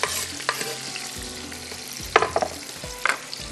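Onions, green chilies and tomatoes fry in hot oil for yakhni pulao with a steady close sizzle, broken by a few sharp scrapes and clatters as a spoon stirs the pan. No one speaks.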